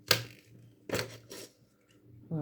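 Scissors snipping through thin paper in a few quick, crisp cuts at close range, with brief silence between strokes and no talk over them.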